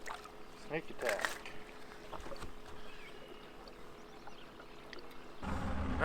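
A fishing boat idles through shallow water on a northern Wisconsin lake in early spring; a low motor rumble runs under sloshing water, with a brief voice and a louder wash near the end.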